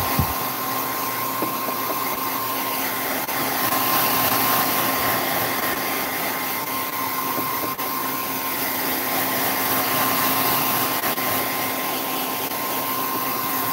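A Revlon hair dryer blows continuously, a loud steady whirring hiss with a constant hum, running alone throughout.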